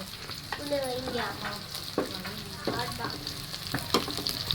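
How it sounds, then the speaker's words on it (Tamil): Coriander leaves, curry leaves and onion sauté in hot oil, a soft continuous sizzle broken by several scraping stirs of a spatula, close and moderately quiet with no talking. "இந்த கொத்தமல்லி, கருவேப்பிலை, வெங்காயம் எல்லாம் பார்த்தீங்கன்னா நல்லா எண்ணெயிலே வதங்கணுங்க"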